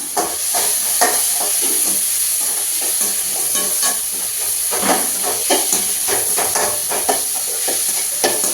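Tomatoes sauté in a hot pan with a loud, steady sizzle and hiss, broken by frequent scrape-and-stir sounds from a spoon, close up with no talking.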